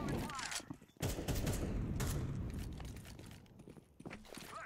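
Rapid bursts of gunfire from the video game Counter-Strike 2 crackle over a dense, loud background, with people talking over the shooting.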